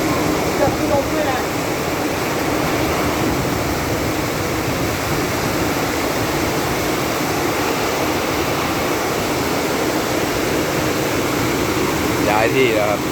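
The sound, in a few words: heavy rain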